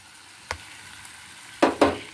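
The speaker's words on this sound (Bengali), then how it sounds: "এবার এটা দিয়েও আমাকে খুব ভালো করে মিশিয়ে নিতে হবে, ভীষণ ভালো করে এটাকে মেশাতে হবে।" Yogurt paste being stirred into a green paste gravy for Hyderabadi paneer in a hot, sizzling pan, heard as a quiet sizzle with a brief scrape early on and two louder stirring scrapes near the end.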